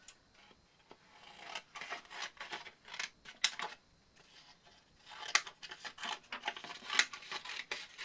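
Scissors cut through paper for a craft activity with close, crisp snipping and rustling strokes, arriving in uneven bursts separated by short pauses.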